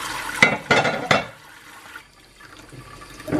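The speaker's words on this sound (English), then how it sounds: "we're just doing a quick wash over, make sure they're good" Running water splashes over baking pans and a cast iron pie pan at a sink in a few strong bursts, then trails off into quieter trickling and faint clatter.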